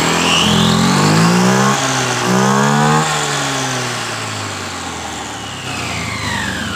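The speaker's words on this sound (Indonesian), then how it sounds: "Perhatikan ketika saya membuka di bagian tuas gasnya." A motorcycle engine with its exhaust muffler revs loudly as the throttle is opened, climbing in pitch twice and dropping back before settling into a rough, steady idle, with no talking.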